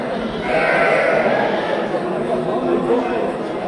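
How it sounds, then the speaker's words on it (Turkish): Sheep and goats bleat amid the steady crowd chatter of a busy livestock market in Çubuk, Turkey. The animal calls are blended into dense background noise close by. "burada keçileri var. Koçları ve koyunları var."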